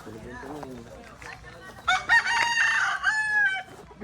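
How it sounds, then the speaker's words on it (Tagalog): A rooster crows loudly and close among clucking chickens, with the crow rising and holding for a couple of seconds while people talk in the background at a birthday gathering. "ito mga manok"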